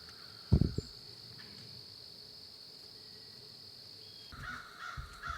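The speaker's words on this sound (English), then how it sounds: "Squawking blue jays and a lone doe were my only entertainment for my last" Blue jays squawk in a Missouri woodland at dusk: a few harsh calls near the start and more toward the end, over a steady high insect drone.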